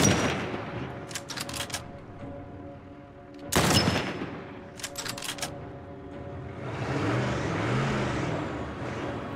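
Gunfire in The Last of Us video game aimed at a moving truck's tires, heard as several sharp bursts of shots, two of them very loud, over a steady vehicle rumble with no voices.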